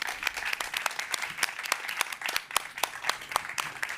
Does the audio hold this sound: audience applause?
yes